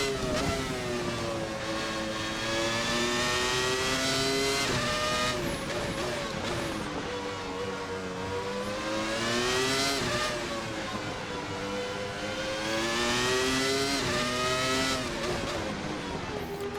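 Williams FW19 Formula One car with a Renault engine in the VRC racing sim, its bass and mid-range tenor harmonies rising and falling through gear changes, a steady, continuous howl heard up close.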